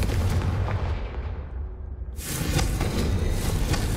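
A Confringo fire spell blast in Hogwarts Legacy, booming and rumbling with a loud, sudden bright burst midway that roars on as a dense fiery crackle.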